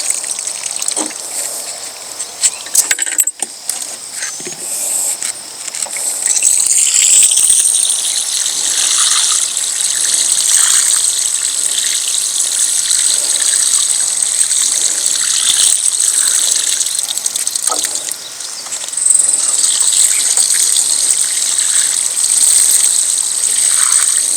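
Water mixed with fish emulsion gushes steadily onto tomato and potato garden plants, a continuous hissing pour that swells after a brief start and runs on with only a short pause near the end.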